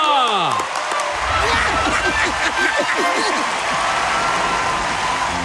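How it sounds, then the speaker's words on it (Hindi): Crowd applause in a Hindi cartoon film at an air show, a continuous bed of clapping and cheering beneath lively voices and whistling, with laughter mixed in. "तालियां!"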